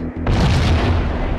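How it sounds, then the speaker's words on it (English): A grenade explodes in the video game Max Payne with a single loud, close boom that rumbles and fades, cutting in sharply after a brief low hum, with no talking. "we'll throw the grenade over"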